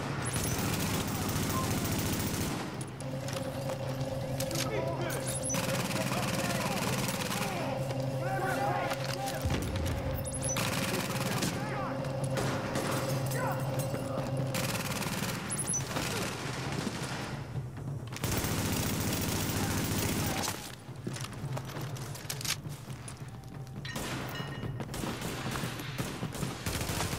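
Sustained heavy gunfire rains down from a rooftop gunner in a video game, a dense, continuous roar of automatic fire and fusillade that runs loud through nearly the whole stretch with only brief dips.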